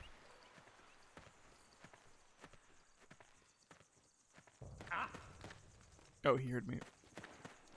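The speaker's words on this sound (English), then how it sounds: "Footsteps." Footsteps in the stealth video game Metal Gear Solid 4, a series of soft clip-clopping steps with a couple of louder thumps, heard beneath a player talking over the game audio.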